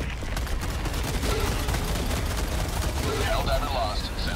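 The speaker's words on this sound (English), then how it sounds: "Firing orbital strike." Orbital strike explosions in Helldivers 2 during a Hellmire firestorm, a dense, continuous roar of blasts and rumble that never lets up, with voices talking over it.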